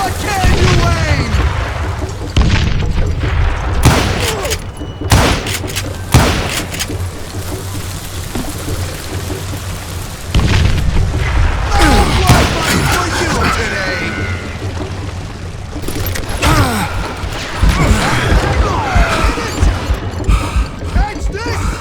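Gunshots, booms and explosions from the Western shooter game Call of Juarez: Gunslinger crack repeatedly throughout, loud and close, mixed with character voices shouting over the action.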